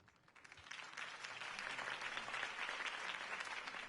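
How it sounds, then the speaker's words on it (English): Crowd applause after a campaign speech in Batman: The Telltale Series, quiet and distant, swelling within the first second into an even, continuous patter of many hands clapping. "If only Mr. Wayne, my campaign's largest backer, could have heard that applause"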